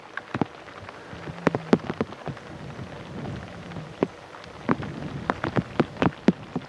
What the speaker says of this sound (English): It's raining quite a bit.